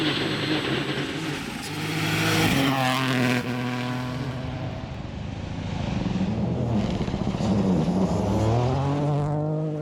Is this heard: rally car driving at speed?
yes